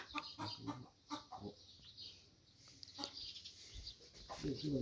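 Chickens cluck in short bursts at a rural home, fairly faint and intermittent, with a louder clucking phrase near the end.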